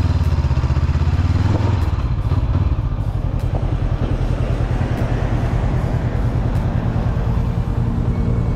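Motorcycle engine revving and pulling away from a stop at a turn, a steady loud droning rumble with rising pitch early on, close to the listener throughout.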